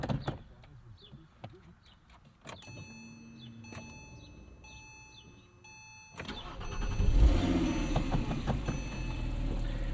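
A 2009 Porsche Cayman S (987.2) flat-six engine cranks and catches, then settles into a loud, steady idle after a few seconds of quiet clicks and mechanical whirring.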